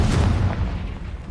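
A fire spell explodes in the Hogwarts Legacy video game, a loud close boom that swells at once and then rolls off into a rumbling tail.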